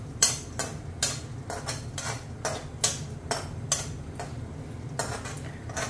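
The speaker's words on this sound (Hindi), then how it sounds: "इनको थोड़ा सा मैं हल्का सा भून लूंगी जिससे ये क्रंची हो जाए।" Cashews and chironji dry-roasting in a pan, heard as a rhythmic series of scrapes and clinks from a spatula tossing the nuts, close and moderately loud with no talk.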